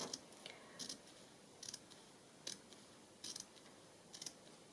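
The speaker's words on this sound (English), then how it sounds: "Just going to cut down this side a bit." Scissors cutting down the side of a page in a handmade Christmas journal, giving a series of short, crisp snips spaced about a second apart, close and quiet in a still room.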